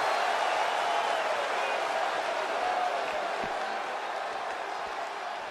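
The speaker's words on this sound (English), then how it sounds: "The sound of this crowd is deafening" A loud, dense wrestling crowd roar with cheering in WWE 2K22 gameplay swells steadily, then eases slightly toward the end, with no clear speech.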